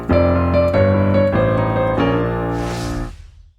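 Piano plays a country gospel lick from The Old Rugged Cross, chords moving in contrary motion over a few seconds, a run of several struck chords that rings out and fades at the end, played alone.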